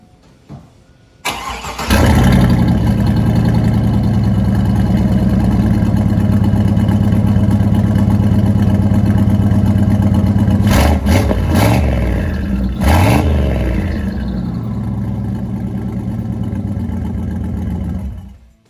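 A turbocharged Cadillac Escalade engine starts and idles with a deep, loud, steady rumble close by, rising in a couple of brief revs before settling and shutting off.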